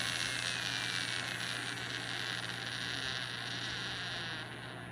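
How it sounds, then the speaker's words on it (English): A small DC motor runs on stored capacitor power at about 15 volts, a steady electric whine and hum with a high tone that slowly fades as the charge drains over a few seconds. "you can hear that we got a lot more running time on that motor"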